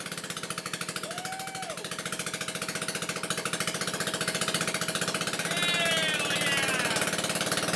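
Honda Elite 150 Deluxe scooter engine under restoration starting and running with a loud, steady rapid chugging that builds slightly, holding alone throughout.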